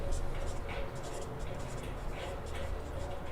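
A pen scratches across paper in short, quick strokes while someone keeps talking over it, the faint writing sounds forming an intermittent texture under the voice.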